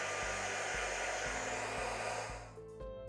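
A heat tool blows a steady, loud whirring rush of air while drying Distress Oxide ink on a handmade Halloween card, then cuts off near the end as the motor winds down.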